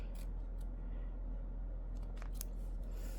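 Scissors cut a fabric patch, giving a few short, crisp snips close by over a steady low hum.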